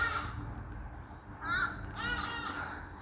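A bird calls near a bird trap, two or three harsh, cawing cries over faint outdoor background, fairly close and unaccompanied by talk.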